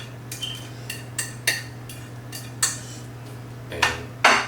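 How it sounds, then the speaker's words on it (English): Vegan tuna salad with celery being stirred in a bowl, a close series of about ten sharp scraping clinks of a utensil against the dish, loosely spaced with no talk. "I'm going to give it a good stir, like so."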